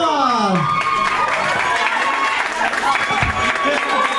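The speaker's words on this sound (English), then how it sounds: "Give them a round of applause!" A crowd applauds, cheers and whoops for a band from West Sacramento at a live show, loud and close, with a few raised voices at the start fading into sustained clapping and shouts.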